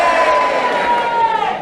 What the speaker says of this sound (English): The cheers have it.